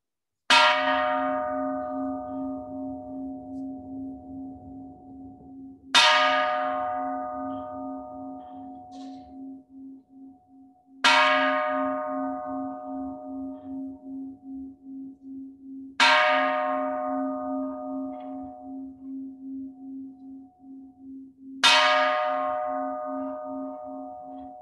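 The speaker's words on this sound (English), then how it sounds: "So Roy Sensei will begin with the striking of the bell." A temple bell struck at a New Year's Eve service rings out five times at steady intervals of about five seconds, each deep, resonant strike decaying slowly into a long humming tail, with no talking.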